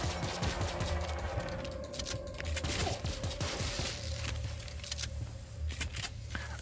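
A weapon in a shooter game fires off its last magazine in rapid crackling bursts, dense and continuous over a low rumble.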